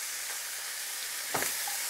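Veal shank browning in butter in a hot pan, giving a steady soft sizzle throughout with a brief clatter of stirring or a utensil near the end.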